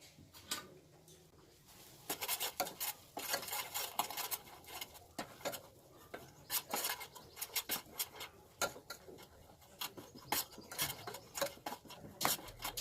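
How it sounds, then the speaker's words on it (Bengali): A spoon stirs homemade herbal massage oil in a pan over low heat, giving faint, irregular clicks and scrapes against the metal in quick bursts over a quiet background. "এইভাবে অল্প তাপ দিয়ে বেশ কিছুক্ষণ তেলটিকে ফোটাতে হবে এবং ঘন ঘন নাড়াতে হবে"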